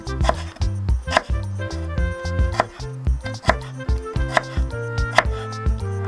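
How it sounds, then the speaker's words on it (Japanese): A knife chops potatoes into small pieces repeatedly against a cutting board in a quick, uneven rhythm, close and crisp, each stroke a sharp knock. "じゃがいもは火が通りやすいように小さめに切ります"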